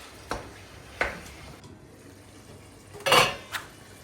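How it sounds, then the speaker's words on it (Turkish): Tantuni meat sautéing in a pan, heard as a low sizzle under a few scattered clanks of a utensil against the metal, ending in a louder cluster of scraping and a single knock. "Şimdi bunu karıştır karıştıra güzelce kavuracağız."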